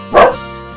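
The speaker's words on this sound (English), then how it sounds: "that's my dog barking, so I apologize." A single sharp dog bark, close and fairly loud, decaying quickly into a quiet indoor background.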